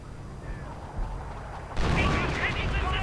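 Artillery fire in a real-time strategy video game: a quiet battlefield rumble gives way to a sudden broad, heavy blast that rolls on as sustained roaring fire to the end.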